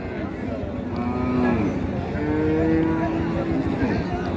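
A young dairy cow moos twice in long, low drawn-out calls over a steady background rumble at a cattle market, fairly close.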